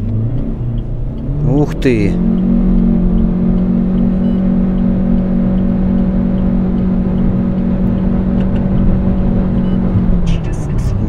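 A Chery Tiggo 7 Pro accelerates hard through a 0–100 km/h run, heard from inside as a steady, loud engine and road drone held for several seconds, with a brief exclamation from a person near the start.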